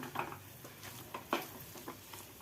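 Boiled tapioca being stirred with salt in a pot, a spoon scraping and knocking against the metal in a few irregular strokes, close and fairly loud, with a faint wet sizzle underneath.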